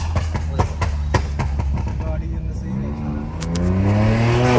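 A stage 2 fully modified VW Polo GT revs hard up close, its loud engine note climbing steadily toward the end over a steady low drone, with indistinct voices partly mixed in.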